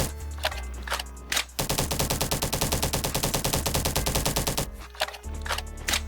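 Assault rifle fire from the video game Bad Business, a long loud sustained automatic burst at a rapid steady rate, framed by a few shorter bursts and single shots before and after.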